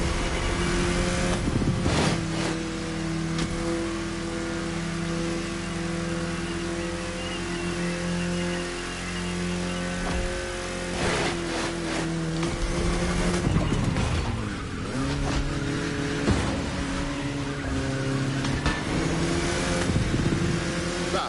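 A car engine hums steadily while cruising in the racing video game The Crew Motorfest, with a loud, continuous drone that rises and falls slightly in pitch and carries no voices.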